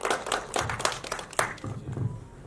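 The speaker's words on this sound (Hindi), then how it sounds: "सर के लिए जोरदार तालियां हो जाए।" An audience applauds a guest at a Hindi film trailer event, a short burst of dense hand clapping from a nearby crowd.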